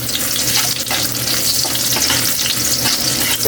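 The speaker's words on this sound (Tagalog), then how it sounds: "Unahin man natin yung luya para mas mabango kaili. Unahin natin yung luya pag gisa." Ginger sautés in hot oil left from frying tofu in a pan, a loud, steady, dense sizzle with occasional stirring scrapes running throughout, and no voices.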